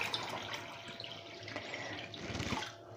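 Water poured into a jug for lemon granita, a steady close splashing stream from a tap-like flow that holds for several seconds and tails off at the end, with no voices.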